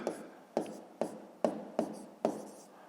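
Pen strokes writing numbers by hand on paper for a fifth-grade math exercise, six evenly spaced scratchy taps in a brisk rhythm, close and quiet.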